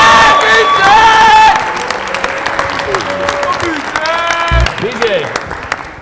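Studio audience claps and cheers loudly for guest BJ Raymond, with shouts and whoops over continuous applause and voices calling out, the roar easing a little after the first seconds.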